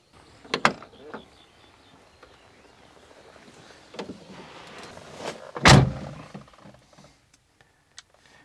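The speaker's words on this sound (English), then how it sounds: "a simple way to open the door" A few sharp clicks and clunks of a rusty Fiat Panda 4x4 car door being handled, with one heavier thud midway as it shuts, then quiet.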